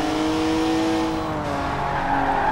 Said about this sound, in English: I had a nice slide going on there